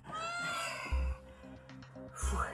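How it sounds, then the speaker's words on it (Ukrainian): A black cat found in a garage meows in a drawn-out, wavering cry, close and clear, over low background rumble. "Хороший котик."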